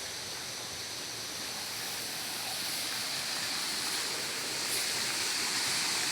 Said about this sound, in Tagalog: narinig ko na yung tubig